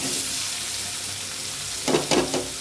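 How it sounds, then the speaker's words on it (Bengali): Malabar spinach with rice being tempered in a hot pan, with a dense, continuous close sizzle and a couple of short stirring scrapes near the end. "এখন আমি ভাত দেওয়া পুঁই শাক বাগার দিতেছি"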